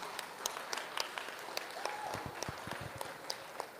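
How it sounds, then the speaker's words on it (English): Applause ripples through a 4-H market goat show crowd after placings are announced, a moderate, steady patter of many hands with a few louder claps standing out, heard from some distance in an open show setting. "Let's give them all a good round of applause"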